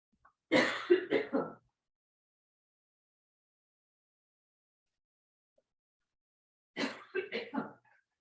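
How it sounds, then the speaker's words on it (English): Two separate harsh coughing fits, each a burst of several rough coughs, separated by a long silence; nearby and fairly clear. "So the cough seems to be what lingers."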